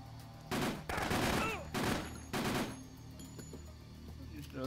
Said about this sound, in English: He's still shooting at me.